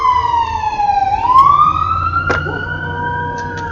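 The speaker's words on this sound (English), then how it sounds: "hopefully that person that has that ambulance going for them ends up being okay. I just hate the sound of sirens." Ambulance siren passing nearby, a loud wailing tone that sweeps down then rises and holds, over low traffic rumble.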